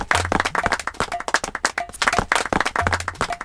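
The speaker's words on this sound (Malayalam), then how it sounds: "എല്ലാ കുട്ടികളും ചേർന്ന് ചിന്നുമോക്ക് വേണ്ടി കൈയടിച്ചേ" Children in a classroom clap together for a classmate, a brief burst of close, rapid hand claps with some chatter under it.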